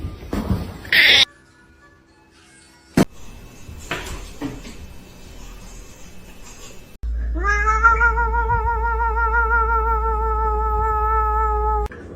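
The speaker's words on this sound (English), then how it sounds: "Let me hear a meow." After a few clatters and quiet room noise, a cat lets out a long, wavering meow, loud and close, over a low hum.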